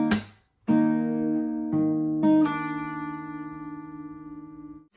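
Clean guitar strums a few sustained chords from a song's chord part, each one ringing out and slowly decaying between strikes, solo and fairly soft.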